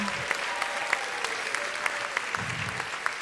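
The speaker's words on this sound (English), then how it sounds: "So if we could get a round of applause for all of our volunteers" An audience at a live theatre production claps for the volunteers, a dense, sustained round of applause with sharper individual claps standing out, heard fairly close in the room.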